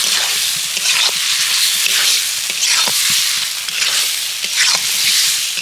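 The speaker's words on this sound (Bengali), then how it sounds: "এবার ভেজে রাখা আলু দিয়ে দিচ্ছি। আলুটাও মশলার সাথে ভালো করে কষিয়ে নেব।" Fried potatoes being sautéed with spice masala in a pan, a loud close sizzle with rhythmic scraping stirs every second or so, continuous and without voices.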